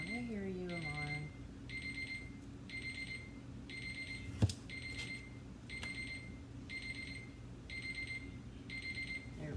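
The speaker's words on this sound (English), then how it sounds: "I hear you, Alarm." An alarm clock beeps in steady repeating bursts, moderately loud and close, while a person talks over it with a low hum underneath.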